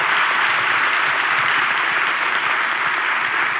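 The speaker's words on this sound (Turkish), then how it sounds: "sosyal mesafeli, maskeli alkışlarla başlıyoruz" Studio audience at a Turkish relationship quiz show applauds steadily and loudly throughout, a dense, even wash of clapping from a large crowd with no voices rising above it.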